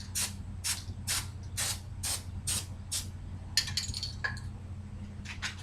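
A can sprays grease onto a one-foot stretch of chain in a run of about seven short, loud hissing bursts, followed by some fainter metallic clinks and scrapes.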